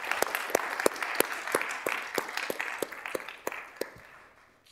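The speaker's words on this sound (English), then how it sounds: "I want to give a big round of applause to Tyler and CU Prime." An audience at a university physics debate breaks into brief applause, a sparse scatter of distinct claps at first that thins and fades out over a few seconds.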